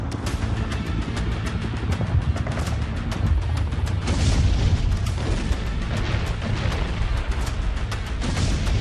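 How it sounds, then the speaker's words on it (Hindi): Bombardment in Kyiv sounds as a dense barrage of deep booms and blasts, thudding and rolling almost without pause at a loud, unbroken level. "आज भी कीव के कई इलाकों में भयानक बमबारी की गई।"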